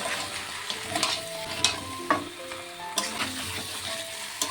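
Mutton and fried potatoes are stirred in a pan and sizzle steadily, with spatula knocks and scrapes against the metal coming at an irregular rhythm.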